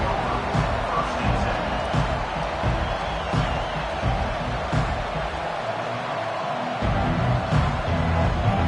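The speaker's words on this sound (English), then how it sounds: "this crowd is fired up. Listen to this noise here" Roaring stadium crowd in a Madden football video game, a steady dense wash of noise with scattered thumps and whoops, loud and continuous throughout.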